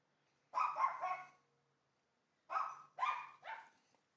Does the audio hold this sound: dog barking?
yes